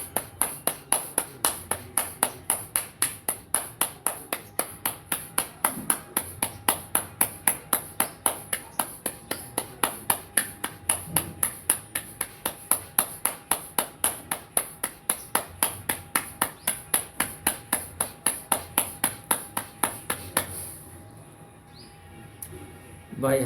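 Steady rhythmic hand clapping during a bhastrika breathing exercise, a long even run of sharp claps at a brisk pace, close and clear, ending abruptly near the close.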